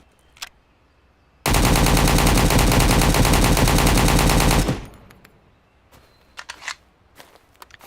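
Full-auto AK rifle fire in the survival shooter Road to Vostok: one loud, continuous burst lasting about three seconds, followed by quiet with a few faint clicks and handling noises.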